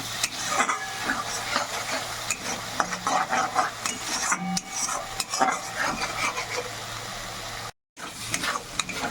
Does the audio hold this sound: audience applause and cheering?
no